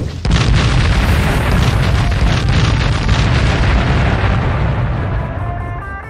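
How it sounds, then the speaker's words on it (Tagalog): Thrown grenades detonating in a loud, close blast that rolls into a long rumbling roar, slowly fading over several seconds with no voices. "Halos mawasak ang lugar dahil sa malalakas na pagsabog."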